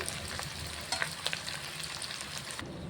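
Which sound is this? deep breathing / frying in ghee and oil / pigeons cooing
frying in ghee and oil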